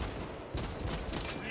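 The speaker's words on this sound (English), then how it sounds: "And this is the bolt pistol." Bolt pistol firing in Space Marine 2, a quick burst of heavy, rapid shots with dense crackling impacts, loud and close over a noisy battle backdrop.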